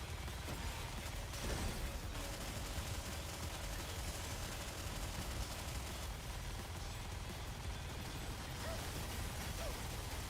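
Rapid video-game gunfire aimed at incoming missiles, dense, continuous bursts of shots layered over loud game sound effects for the whole stretch.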